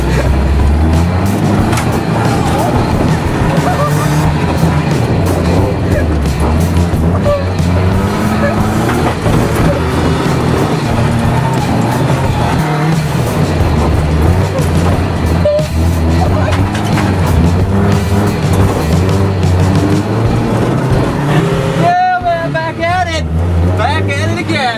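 A Nissan S14 with a freshly installed engine driven hard around a dirt shop track, its loud, continuous engine roar rising and falling with revs for the whole stretch.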